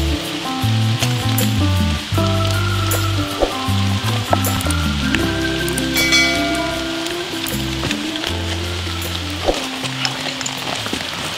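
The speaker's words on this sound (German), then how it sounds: "So, der Regen ist stärker." Heavy rain falls outdoors, heard from a nature photographer's shelter as a loud, dense, continuous hiss and patter with scattered sharper drops striking nearby surfaces.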